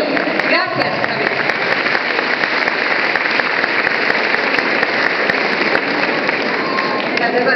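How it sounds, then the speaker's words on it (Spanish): An audience claps for a speaker at a women's equality event, a loud, continuous burst of many hands clapping close by, with individual sharp claps standing out from the steady roar. "para quien pido un fuerte aplauso, ella es Isabel Encerrado Treviño."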